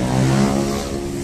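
Motorcycles in Jakarta street traffic make a continuous, fairly loud engine drone with a rising rev, close by and steady throughout with no voices.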